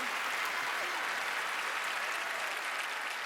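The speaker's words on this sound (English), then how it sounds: "Another round of applause for Gianni" Studio audience at a magic competition show applauding, a dense, steady burst of clapping filling the room without pause for a few seconds, moderately distant.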